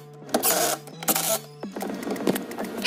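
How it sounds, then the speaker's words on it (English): A power screwdriver drives screws back into the door panel of a 2005 Chevy Tahoe, whirring in three short close bursts with a pitched motor hum, the last burst rattling as the screw seats. "mount that thing back up and put the screws back in"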